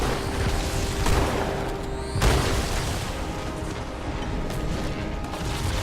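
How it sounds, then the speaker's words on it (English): Dense, continuous rumbling blasts and booms from a Halo firefight with Master Chief, with sharp bursts at about one and two seconds swelling over a constant loud roar of game combat noise. "So much explosions."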